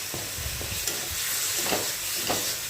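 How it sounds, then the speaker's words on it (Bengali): Garlic and ginger paste sautés in a pan while being stirred, a soft continuous sizzle with scraping strokes of a spoon, close and even. "1 চামচ দিয়ে দিলাম রসুন বাটা, 1 চামচ দিয়ে দিলাম আদা বাটা। এবার এটাকেও খুব ভালো করে কষিয়ে নেব।"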